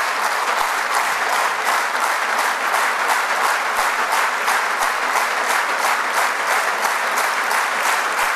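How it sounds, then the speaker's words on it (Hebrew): An audience standing up and applauding: dense, continuous clapping from a large crowd, loud and even throughout with no pauses. "ומה שאתם קמים ומוחאים כפיים"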